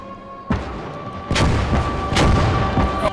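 Heavy artillery blasts and gunfire in an Army Men video game battle at Verdun, with several loud booming impacts over a constant rumbling battle background.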